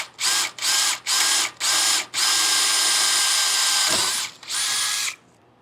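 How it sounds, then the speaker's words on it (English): A power drill bores through an enclosed trailer frame, whining loud and close in five bursts, with a long steady run in the middle and brief pauses between the short pulses. "we'll switch to the forward motion and drill the rest of the way through"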